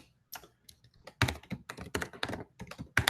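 Quick, uneven keystrokes on a computer keyboard, a few sparse taps first and then a denser burst of clicky typing, close and fairly quiet.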